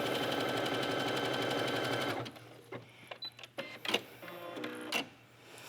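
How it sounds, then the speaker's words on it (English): A sewing machine stitches elastic directly into a waistband of a mermaid tail, running in a steady close whir for two seconds, then stopping into short bursts, clicks and brief restarts. "We're actually sewing the elastic into the waistband directly."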